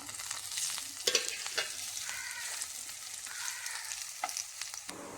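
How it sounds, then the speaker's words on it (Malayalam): Chopped ripe plantain sautéing in a pan for a Kerala tea-time snack: a steady, close sizzle and hiss with a few sharp spatula scrapes and stirring clicks, no voices. "ഏത്തപ്പഴം ചെറുതായിട്ട് അരിഞ്ഞത് ഇട്ട് കൊടുക്കാം ഇതും കൂടി ഒന്ന് വാട്ടിയെടുക്കാം"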